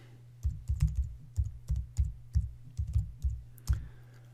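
Typing on a computer keyboard while setting up a C compiler on a Mac, a close run of about a dozen crisp key clicks in an uneven rhythm, with no talking.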